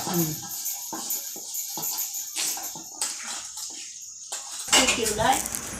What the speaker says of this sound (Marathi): कढई मांडलीवर आणि त्यात तेल वाचायचं